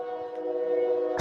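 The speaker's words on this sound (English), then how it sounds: "This man Justo got the choo choo going on in the background." A distant train horn sounds in a long sustained tone behind a voice chat, holding steady before a sharp close burst of noise cuts in at the end.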